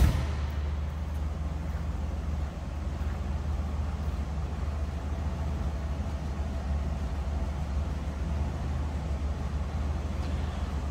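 A 1979 Cadillac Coupe DeVille engine idles with a steady low rumble, running evenly without a break at a constant level, with no voices.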